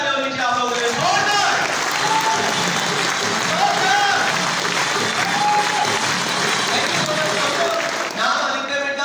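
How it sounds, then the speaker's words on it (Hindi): Loud audience applause rolls through a Vestige meeting hall, a thick sustained burst of many clapping hands with cheering voices rising over it, lasting the full stretch before fading at the end. "एक बार जोरदार तालियां होनी चाहिए आप लोगों के लिए, जोरदार।"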